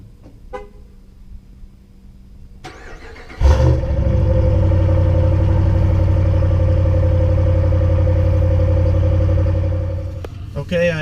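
A Ram 1500 pickup truck's engine starts with a low idle and then runs steadily and loudly close by for several seconds before easing off, after quieter cabin sounds and a few clicks at the start.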